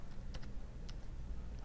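Computer keyboard typing, quiet and close: a handful of separate key clicks spaced irregularly over a soft room hush.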